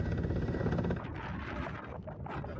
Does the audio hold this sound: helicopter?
yes